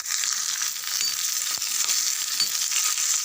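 Onion, garlic and dried red chillies sauté in about three spoons of hot oil for tomato chutney, a steady close sizzle with faint stirring scrapes throughout and no talking.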